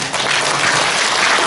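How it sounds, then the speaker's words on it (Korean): Audience applause at a youth dance community performance, greeting dancers as they enter, a dense steady wash of many hands clapping, loud and close throughout. "큰 박수 부탁드립니다."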